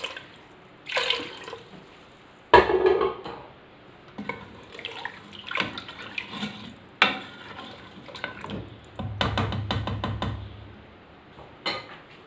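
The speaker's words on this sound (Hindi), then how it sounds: "हिसाब से आप पानी शामिल कर दें इसमें।" Water is poured into a pot of browned mutton for shorba, splashing in uneven bursts with a few metallic clinks from the pot between pours.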